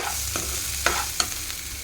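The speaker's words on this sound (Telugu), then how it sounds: "మంచి కలర్ వచ్చేంత వరకు వేగనిస్తాను ఉల్లిపాయలు" Onions frying in a pan: a brief stretch of close sizzling with a few quick spatula scrapes and taps, and no talking.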